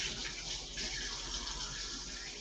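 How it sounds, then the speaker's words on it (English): Hands washed under a running kitchen tap: a constant, even splash of flowing water, close and moderately quiet, with no speech. "Excuse me while I wash my hand."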